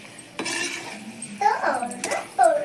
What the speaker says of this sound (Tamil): முட்டை வச்சு போகுது டக்குன்னு இது எல்லாத்துலேயும் ஸ்ப்ரெட் ஆகிற மாதிரி மிக்ஸ் பண்ணி விட்டுருங்க